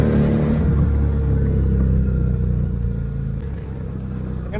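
A Victorino 250i motorcycle riding along MacArthur Highway, its engine a steady loud droning rumble with road and wind noise that eases slightly toward the end, close with no voices.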